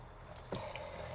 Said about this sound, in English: Oh wait, the water pump, I have to kind of turn it on.